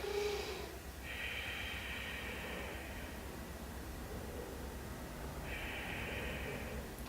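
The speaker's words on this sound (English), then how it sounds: "Breathe into it." Slow, deliberate breaths during a seated neck and trapezius stretch in a yoga session, two long airy exhales a few seconds apart, close and fairly soft over a steady background hiss.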